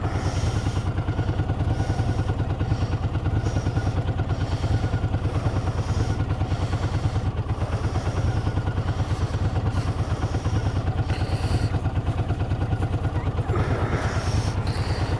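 A motorcycle engine runs steadily and loudly close by for the whole stretch, a dense, even rumble with a rattling edge and no clear shifts in revs, ridden along Derbyshire roads in the Peak District.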